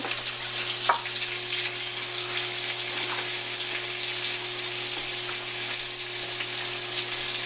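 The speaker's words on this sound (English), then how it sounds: "Our pan should be pretty hot, so we're going to take the salmon, just like that" Salmon fillets sizzle in a hot frying pan for a salad, a constant bright crackle of frying oil with scattered pops and spatters, close and steady, with no voices.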